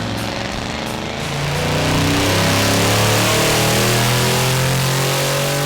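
A 1971 Chevy C10 pickup with a swapped LT1 V8 revs up hard on a chassis dyno, rising from a steady drone into a loud, sustained high-rpm pull that holds to the end, close and alone.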